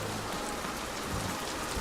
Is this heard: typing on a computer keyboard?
no